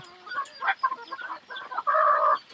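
Chickens cluck and squawk nearby in uneven bursts, ending with a louder, sustained cackle.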